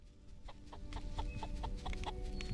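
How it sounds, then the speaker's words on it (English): Chicken in the Solarpunk video game, a series of short clucks repeating in a loose rhythm at moderate level over a steady low game-ambience drone. "What are you doing here, chicken? The chicken's coming in my house."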